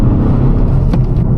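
A Volkswagen Golf driving on a road heard from inside the cabin, a loud, steady low engine and tyre rumble with no voices.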